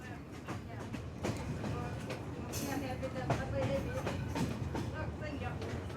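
A train on the Shkodra–Tirana line in Albania rumbles past with rhythmic clacking of wheels over rail joints, steady and fairly close, a low mechanical roar throughout.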